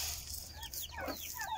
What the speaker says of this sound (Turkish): Sabah geldim, tavuklara yem vereyim